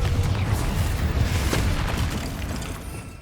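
A Confringo blasting curse in Hogwarts Legacy erupts as a loud, close, low rumbling boom that holds and slowly fades over a few seconds, with no voices.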